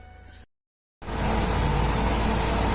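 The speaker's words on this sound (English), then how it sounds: "So the vehicle's up and running now" A 1992 Ford E150 van engine catches after a short silent gap and settles into a steady, loud, close idle with a constant mid-pitched drone, no voices present.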